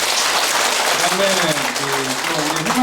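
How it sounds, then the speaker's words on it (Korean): Steady applause from a crowd at a Buddhist dharma ceremony fills the clip, with a voice speaking Korean underneath the clapping. "우리 한번 심차 박수 한번 보내주시고요"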